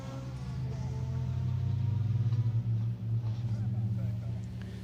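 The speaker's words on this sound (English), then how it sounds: "First car coming into shot, as you see Gareth James in the corner of your picture launching into this stage." Rally car launching into an asphalt stage at the Tour of Epynt, a steady engine drone building and holding with a few brief dips, heard under continuous commentary.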